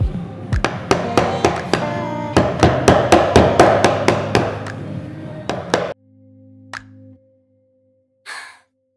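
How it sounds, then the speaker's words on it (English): A chisel is struck repeatedly while shaping the rounded edges of a wooden speargun handle: a run of sharp, evenly spaced close knocks that then stops, followed by a few quiet breaths. "I'm going to start chiseling away to get the rounded edges on the handle."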